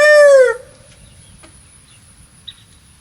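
A rooster gives a loud, close crow lasting about half a second, then quiet barnyard background follows with only faint, scattered noises.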